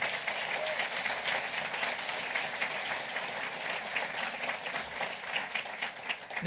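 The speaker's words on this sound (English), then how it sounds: "give yourself a round of applause and recognition" An audience at a university PhD hooding ceremony applauds the graduates, a steady, moderately distant wash of clapping that swells slightly near the end, with faint voices mixed in.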